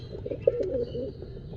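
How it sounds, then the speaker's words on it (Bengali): A soft, low pigeon coo, brief and close, in a pigeon loft where a mother pigeon sits on eggs, over faint background noise. "এই কূপে মা কবুতরটি ডিম নিয়ে বসে আছে"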